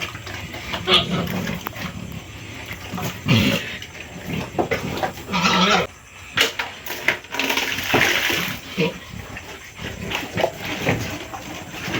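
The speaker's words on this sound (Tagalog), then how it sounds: "ito kasi mga baboy talaga oh" Pigs eat feed mixed with duckweed and molasses, making wet slurping, chomping and snuffling sounds up close, with occasional grunts and splashes in an uneven, busy stream.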